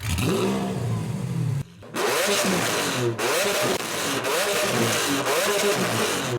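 A loud, close Lamborghini Aventador engine revs repeatedly through its exhaust, its pitch sweeping up and down in throaty bursts with a brief dip between blips.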